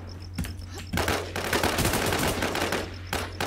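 Rapid automatic gunfire bursts from the online survival shooter Infestation, sustained rattling volleys with brief pauses, heard alone without talk.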